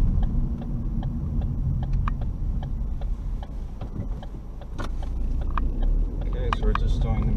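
A 2011 Ford Focus Edge pulling out onto the open road, its engine and road rumble steady from inside the cabin, with regular ticking like an indicator and a voice speaking over it.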